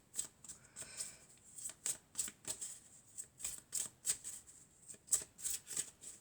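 Tarot deck being shuffled and cut by hand, a run of quick crisp riffling and slapping card sounds in an uneven rhythm, close and fairly quiet, with no talking.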